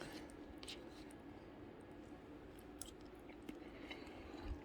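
Someone chews a bite of game day lasagna, with faint, soft, wet mouth sounds close to the mic over a low background hiss.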